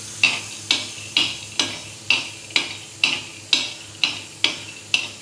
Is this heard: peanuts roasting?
yes